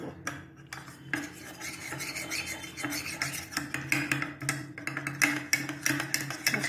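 Cornflour and ground pepper stirred into water in a bowl for a corn egg soup, a steady scraping, rasping stir that keeps going close up with small clinks of the utensil.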